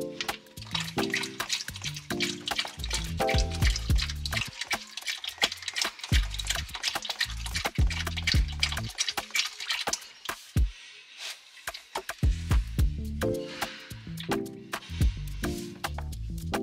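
Differential fluid drains from a Toyota Tacoma, heard as uneven gurgling, dripping and splashing into a container, loud and close, with brief pauses.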